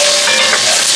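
Chili flakes frying in hot oil for Southern collard greens, giving a dense, loud, continuous sizzle with no speech over it.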